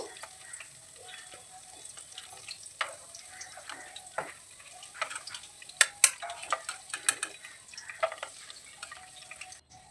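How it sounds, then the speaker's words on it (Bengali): Afghani chicken kofta fry on a medium-low flame, a quiet steady sizzle broken by scattered crisp pops and crackles that grow busier toward the end. "তাই আমি মিডিয়াম টু লো ফ্লেমে কোপ্তাগুলো ভেজে নেব।"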